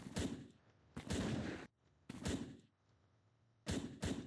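Gunfire in the top-down shooter video game SWAT God, several short, sharp bursts of rapid shots separated by brief quiet gaps, moderately loud and clear.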